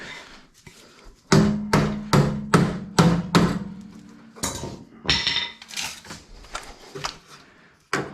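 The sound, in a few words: hammer knocking out spot welds on Jeep ZJ bumper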